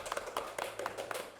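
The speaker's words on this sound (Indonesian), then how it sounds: "tepuk tangannya sekali lagi buat Aldi" A handful of people clap for Aldi in a school-club chat setting, giving a sparse, irregular run of light hand claps, fairly faint and close.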